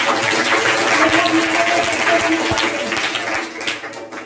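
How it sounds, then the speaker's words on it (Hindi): An audience claps for a student during a Hindi motivational talk, a broad, even wash of applause that slowly thins out toward the end. "चलिए खुशबू कुमारी के लिए जोरदार तालियां"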